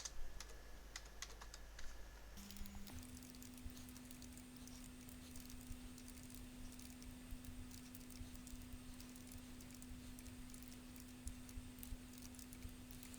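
Code is typed on a computer keyboard while programming a numerically controlled oscillator on an FPGA. Soft, rapid, close key taps patter continuously throughout over a steady electronic tone and faint background hum, with no speech.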